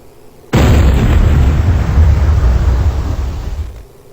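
A simulated cannon fires with a sudden loud blast that holds as a roaring, rumbling burst for about three seconds before cutting off abruptly, set against quiet background.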